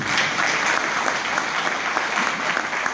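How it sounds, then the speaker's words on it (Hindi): An audience at a direct-selling seminar breaks into steady, dense applause, loud and continuous across the whole moment with no speech over it. "एक बार शानदार तालियां आप सभी को।"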